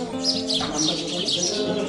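A rare white sparrow at Rajura Ghate chirps in quick, repeated high tweets over a continuous murmur of background noise.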